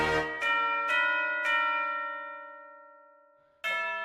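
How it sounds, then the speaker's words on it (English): A tubular bell sound font in a trap beat strikes four bright metallic notes in quick succession, each ringing out and decaying slowly, then a fifth strike lands after a long pause. "there's this Tubular Bell that I like. I'm just gonna lay down a bell pattern in scale."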